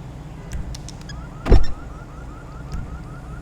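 In GTA Online, the doors and windows of an Albany V-STR four-door car open with soft clicks and a short mechanical clunk near the middle, over a low idling hum.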